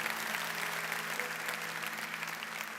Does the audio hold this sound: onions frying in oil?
no